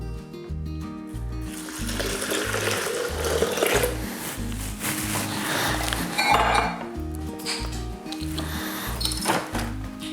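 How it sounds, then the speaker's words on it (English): Water splashing and running into a container of oats for homemade oat milk, with light clinks of dishware over a steady rhythmic backing throughout. "Got my oats in there, get my water in there."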